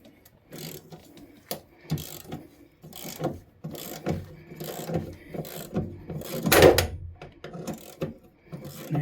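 Ratchet loosening bolts on car interior parts during interior removal, heard close as repeated short bursts of quick clicking with pauses and occasional louder clunks of metal, with no talking.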